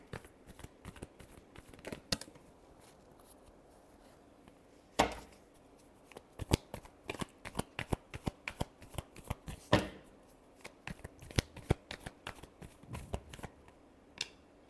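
Tarot cards are shuffled by hand close up, with steady quick riffles and soft slaps that run on for several seconds and include a few sharper snaps.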